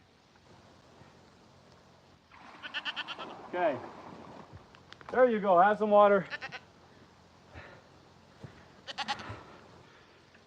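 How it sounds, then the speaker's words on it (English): A brown goat on a homestead bleats several times in wavering, nasal calls, loudest in a long quavering cry mid-way, while a person speaks softly between the calls. "I need to milk that brown goat."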